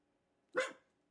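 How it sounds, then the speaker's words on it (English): A dog named Lady lets out one short, sharp bark, fairly close and moderately loud, standing alone against an otherwise quiet background with no talking. "Lady, are you barking?"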